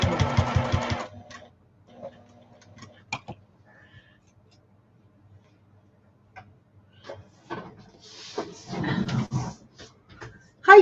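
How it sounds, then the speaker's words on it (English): A sewing machine runs in short bursts while stitching straight lines on a fancy shopping bag, with a clear run at the start and a longer stretch near the end, separated by quiet pauses and small handling knocks. "I'm just sewing straight lines still."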